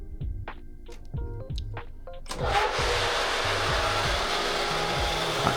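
Faint tonal music plays, then a swimming pool pump system kicks on about two seconds in and roars loudly and steadily, a broad mechanical whoosh masking the music.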